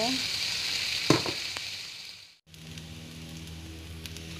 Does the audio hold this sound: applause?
no